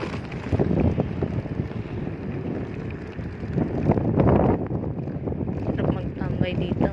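Sea wind at Marsa Mina buffets the microphone in rough, gusting rumbles while people talk nearby.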